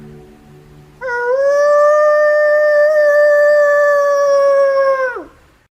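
A man imitates a wolf howl with his voice: one long, loud, steady sustained tone lasting about four seconds that rises at the start and drops away at the end, heard alone.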